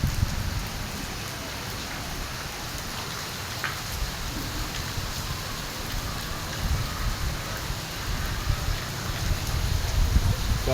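Steady heavy rainfall in Lahore forms an unbroken, close wash of hiss and low splashing patter on surfaces, even in level throughout with no speech.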